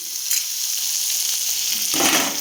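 Ivy gourd sautéing with spices in a hot pan gives a steady, loud sizzle and crackle throughout, with a brief stirring scrape near the end and no talk.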